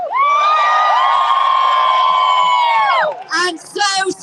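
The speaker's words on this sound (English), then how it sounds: "there are so many of you protesting this evening that the crowds are stretching back right into Parliament Square." A protest crowd outside the British Parliament in Parliament Square, calling for a ceasefire in Gaza, lets out a loud sustained cheer and whoop lasting about three seconds, followed by scattered shouts.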